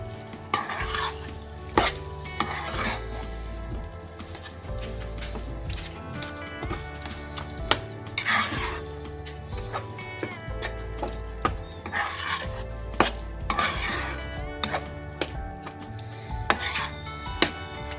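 Vegetables for pav bhaji being stirred and mixed in a pan, with steady scraping and tapping of a spatula against the pan and music playing throughout.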